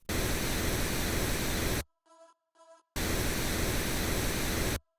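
Pink noise under a music mix, a loud, even hiss in two long blocks separated by about a second of near silence with two faint tonal blips.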